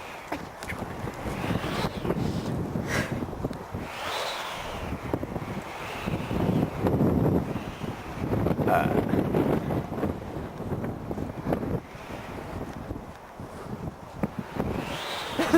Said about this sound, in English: The wind's there.